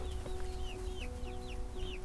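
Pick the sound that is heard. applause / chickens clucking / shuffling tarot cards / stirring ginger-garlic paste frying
chickens clucking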